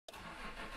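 A car engine in Mon Bazou catching on the ignition and settling into a steady idle, loud and close, with no talking over it.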